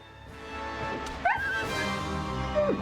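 A dog character in the video game Gladius lets out a short whimpering yelp as it is struck, a brief rising cry over steady game music and effects.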